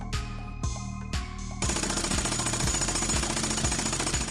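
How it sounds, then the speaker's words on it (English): Loud, steady jackhammer-style drilling rattles at a construction site by a pipeline near a prison tunnel, first in short stuttering bursts, then settling into continuous hammering with a rhythmic low thump underneath. "drilling began at the pipeline near the construction site"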